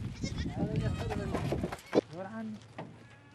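Sheep and goats bleat at a Bedouin family's animal pen in the Omani desert, with a clear wavering bleat rising over people talking nearby.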